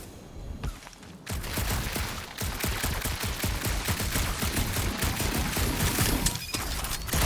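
Dense, sustained gunfire from the video game Marvel's Guardians of the Galaxy, in a dark cave-like area of a monster planet: rapid overlapping shots with heavy thumps, loud and continuous after a brief quieter opening.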